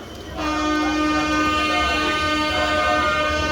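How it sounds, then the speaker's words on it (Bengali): A local train leaves platform four at Krishnanagar City Junction, bound for Amghata. A loud, sustained horn blares over a steady rumble of the train, heard close with no talk. "কৃষ্ণনগর থেকে আমঘাটার উদ্দেশ্যে আমাদের লোকাল ট্রেন ছেড়ে দিল"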